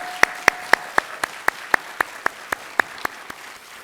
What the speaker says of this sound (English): Another round of applause for the Anchor Dance Group.